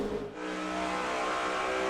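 NASCAR Sprint Cup race cars at speed on the Charlotte oval during the 2010 All-Star Showdown, a loud, continuous engine roar that dips briefly and then swells steadily as the cars accelerate.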